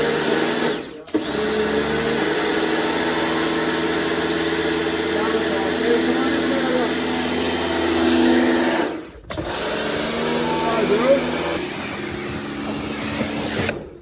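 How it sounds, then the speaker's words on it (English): A snow foam gun sprays bubble gum scented snow foam onto a Ford car, a steady loud hiss and mechanical whirr running almost the whole time with two brief breaks, while a voice talks faintly underneath. "And I have also brought, of course, Dylan, my snow foam gun."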